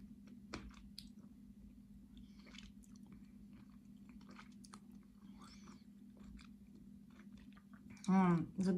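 Dense edible clay being bitten and chewed up close, soft muffled crunches and sticky squishing in quiet, irregular bites, with a voice briefly speaking at the end.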